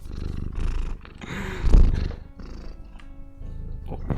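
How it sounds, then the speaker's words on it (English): A cat purrs loudly and steadily up close, a deep rumbling purr that pulses through the whole stretch, with brief rustling and handling noises mixed in. "Some fierce purring, yeah."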